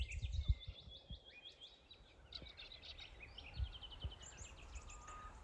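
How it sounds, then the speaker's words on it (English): Birds calling and chirping outdoors at a metal detecting spot, repeated high trilling and whistled phrases from several birds through the whole stretch, fairly distant over low rumbling background noise. "Just the bird life."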